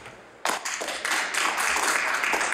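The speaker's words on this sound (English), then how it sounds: "We here in the Nova Scotia Legislature thank you and share our applause." Applause in the Nova Scotia House of Assembly legislative chamber, starting abruptly after a short quiet moment and swelling into a sustained, fairly loud clatter of many members clapping.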